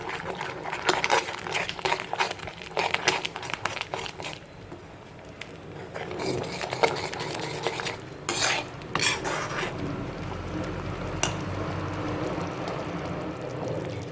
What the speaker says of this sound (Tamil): சேர்த்துட்டு நல்லா கிளறி விட்டுடணும்,